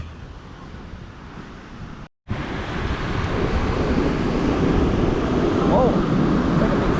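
Ocean surf washes steadily onto a resort beach, with gusty wind buffeting the microphone. A brief dropout interrupts it, then the waves come back louder and fuller as a big splash crashes close by.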